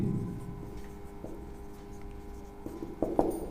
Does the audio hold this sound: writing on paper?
yes